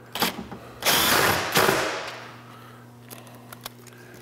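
Power tool, an impact driver, tightens a nut onto a bolt stud during a car cold air intake install, with a few short close rattling bursts and then quiet mechanical clicks.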